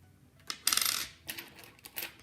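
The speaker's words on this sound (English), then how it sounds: "I'm going to make separate piles for my coins" Coins dropped by hand onto a table to sort them into separate piles of pennies, nickels, dimes and quarters, a quick cluster of bright metallic clinks and jingles in a few bursts, close and clear.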